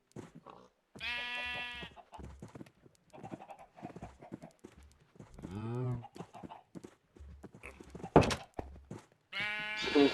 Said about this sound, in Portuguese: Vou alimentar as ovelhas um pouquinho.